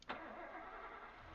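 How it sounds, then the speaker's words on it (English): A car engine in the video game 428: Shibuya Scramble starts with a quick burst and then revs and idles outside, faint and steady for the rest of the moment. "I hear the sound of an engine revving outside."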